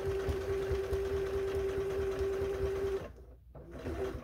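Sewing machine quilting a small scrap mini quilt without a walking foot, running as a steady close whirring drone for three seconds, then stopping briefly before a faint restart.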